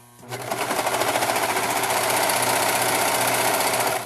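A sewing machine runs fast and continuous while sewing a fabric cover, loud and close, with a rapid mechanical buzz and no pauses.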